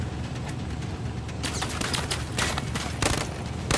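Semi-automatic gunfire in a VR shooter game plays back as rapid, sharp shots that come in clusters over a dense, noisy game soundscape, loud and close.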